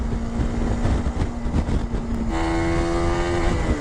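A TVS Apache RTX300 motorcycle riding at speed in daylight, a loud steady engine drone with wind rush, the engine note stepping up in pitch partway through as revs rise.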